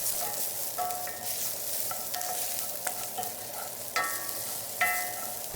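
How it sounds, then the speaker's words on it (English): Onions stir-frying in a hot Lodge cast iron skillet, a steady soft sizzle with scraping stirs and occasional clinks, moderately close and heard alone. "Now we add the onions to the hot pan and stir-fry them until they change color and become soft and caramelized"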